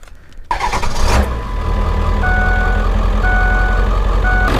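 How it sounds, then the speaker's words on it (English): A Ford 7.3 Powerstroke diesel with new injectors cold-starts: a short crank, then the engine catches and settles into a loud, steady, rattling idle close by, with intermittent beeping tones over it. "This is what a good motor sounds like with good injectors."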